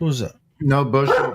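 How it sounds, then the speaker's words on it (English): A dog barks over a live voice chat, its yaps tangled with people talking nearby. "Somebody's dog is way louder than everybody else."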